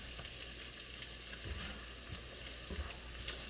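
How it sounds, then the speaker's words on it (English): Shallots browning in a pan: a faint, steady sizzle and fry close by, with a few soft stirring clinks and scrapes. "browning all of those shallots"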